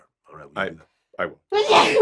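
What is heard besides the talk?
sneeze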